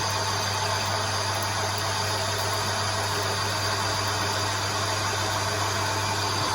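A Myford lathe turns solid stainless steel at a slightly reduced speed, giving a steady, continuous machine drone with a strong low hum and a broad high whine, loud and unchanging throughout with no voices.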